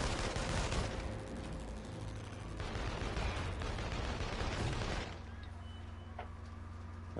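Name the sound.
gunfire in the video game inFAMOUS Second Son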